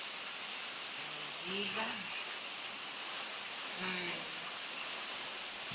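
Steady rain falls around a large gazebo, a constant wash of hiss, while a voice speaks briefly twice over it.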